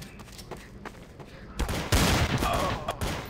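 Gunfire in Counter-Strike: Source: a quiet first stretch of scattered shots, then from about midway a dense, loud fusillade of rapid bursts crackling close by until the end.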